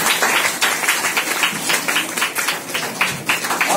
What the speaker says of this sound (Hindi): बजाइए ताली मेरे लिए